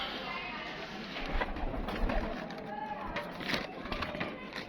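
A pigeon cooing close by while someone talks over it; soft low coos and rustling wing and handling noise sit under his voice across the short stretch.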